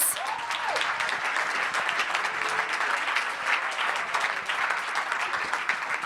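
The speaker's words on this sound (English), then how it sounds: "Big round of applause." An audience at a Startup Weekend Stuttgart 2017 pitch night applauds the sponsors. The clapping is full and continuous for several seconds, with no voices over it.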